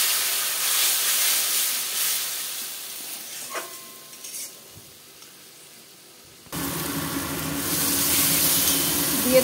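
Mutton stock from boiled meat poured into a hot pan, a loud hissing sizzle that fades to quiet, then a sudden burst of bubbling and steaming that carries on strongly.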